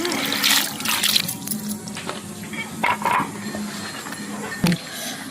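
Grated green mangoes being washed in water in a home kitchen: continuous sloshing, splashing and squishing of wet shreds close up, with a few louder splashes and no speech.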